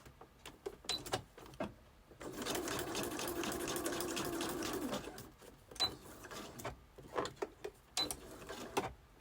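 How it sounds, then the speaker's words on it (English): A sewing machine stitches around the edge of a paper pocket page for a journal, giving one steady burst of mechanical whirring about three seconds long between quiet handling clicks and taps, fairly faint in a small room. "I'm going to just sew around the little part there"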